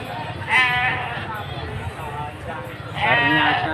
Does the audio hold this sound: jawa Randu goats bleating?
yes